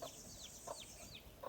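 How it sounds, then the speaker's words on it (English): A farm rooster with a hen nearby gives faint, repeated short clucks at a steady spacing, heard at a distance outdoors over a soft background hiss. "The rooster over there"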